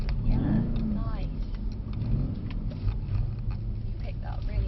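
A Mercedes car accelerates on a driving track, its engine droning and revving steadily beneath people talking.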